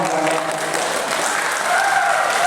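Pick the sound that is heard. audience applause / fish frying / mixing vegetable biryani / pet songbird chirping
audience applause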